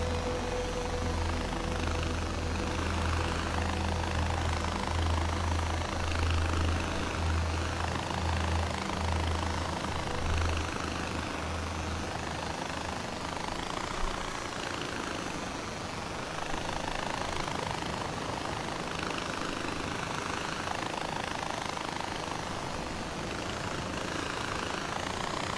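Helicopter flying in the video game Far Cry 4, a steady engine and rotor drone holding at a constant level for the whole stretch, with a low throb that is heavier early on and no talk.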